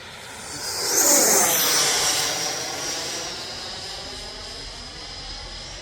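A radio-controlled fighter jet model sweeps past overhead with a swelling turbine whine that peaks around the middle and slowly fades, loud and close with no talking.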